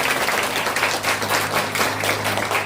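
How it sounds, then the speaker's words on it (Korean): A church congregation breaks into steady applause during a Sunday service after a baptism certificate is presented, the clapping dense, close and continuous throughout without pause. "박수 쳐주세요"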